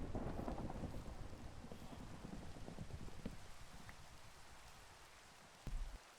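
Steady rain and thunderstorm noise in the Minecraft video game, a broad continuous hiss that slowly fades, with a brief low rumble near the end.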